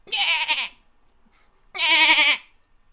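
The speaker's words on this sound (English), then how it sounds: "you also hear the braying of a goat" A goat bleats twice, loud and close, in two long wavering calls separated by a short pause, amid a fantasy tabletop game session.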